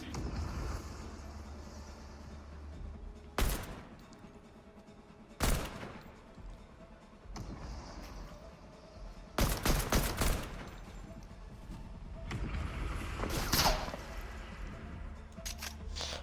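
Assault rifle fire in a video game comes in a few short, sharp bursts and single cracks spread across a low background hum, with clusters of shots between quieter gaps.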